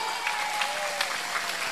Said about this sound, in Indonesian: Tepuk tangan maning.